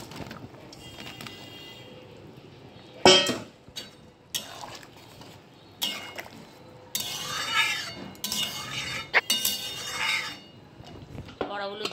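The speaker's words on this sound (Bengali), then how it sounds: "এবার আমি বড়াগুলো দিয়ে দেবো।" Fried potato boras going into a curry pot, with clinking utensils, a sharp metallic knock and stirring scrapes in uneven bursts, close by, with some speech in between.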